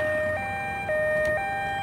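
An ambulance siren in the Ambulance Simulator video game, a loud two-tone wail alternating steadily between high and low pitches, heard alone with no talk.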